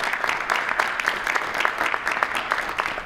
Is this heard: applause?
yes